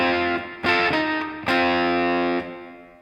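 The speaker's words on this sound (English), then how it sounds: "The main intro, you heard it at the beginning of this video, sounds like this." Distorted electric guitar playing an intro riff, a few punchy, sustained notes struck in a short rhythmic phrase, loud and close with no talking.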